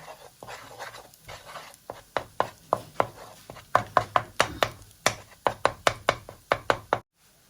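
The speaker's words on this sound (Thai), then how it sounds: "เอาไข่ลงไปทอดค่ะ ข้างในนี้ แล้วก็ทำให้มันแตกค่ะทุกคน" A spatula breaks up an egg frying in a pan for fried rice, making a quick run of sharp, close taps and knocks that grows louder and more rhythmic before stopping.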